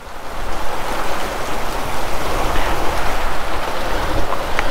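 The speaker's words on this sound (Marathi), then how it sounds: "पावसाने लेवल करायचीच घेतली" Heavy monsoon downpour falling steadily, a dense, continuous broadband hiss of rain at close range with no pauses and no voices.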